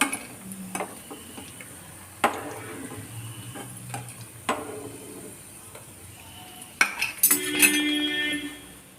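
Utensils clink and scrape in a kitchen before pieces of baby corn drop into hot oil, setting off a bright, crackling sizzle that swells near the end.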